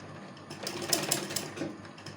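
A sewing machine stitches the lining of a kurti, running in a steady, moderately loud mechanical whirr with brief surges in pace, close up and with no talking over it.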